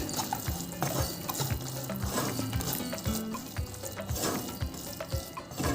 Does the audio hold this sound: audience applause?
no